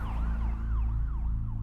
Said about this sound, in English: Five minutes later, an ambulance pulled up at the Fabiano's house